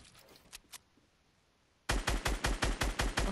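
Rapid automatic gunfire in a Surge 1v1 video game match: after a quiet stretch with a couple of faint pops, a loud, evenly spaced burst of about ten shots rings out close and alone.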